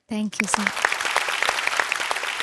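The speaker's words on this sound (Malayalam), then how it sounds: "അതിന് വലിയൊരു കൈയടി വേണം" A short burst of speech, then scattered hand claps that build into a light round of applause from a small group at a televised singing competition.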